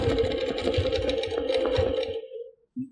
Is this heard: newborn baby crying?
no